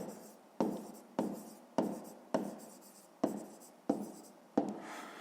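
A pen writes an answer on paper for a fifth-grade maths exercise, heard as seven distinct, evenly spaced scratchy strokes up close, each starting sharply and fading, with no voices.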